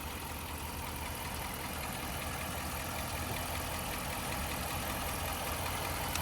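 A 2011 Jeep Grand Cherokee Overland's 5.7 liter V8 idling, heard from the engine bay as an even, continuous low hum with no talk over it.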